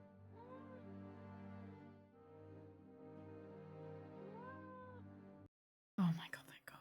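In the video game Seven Keys, a cat lets out two drawn-out meows several seconds apart over a low, steady musical drone, then a brief silence gives way to a sudden loud burst of sound.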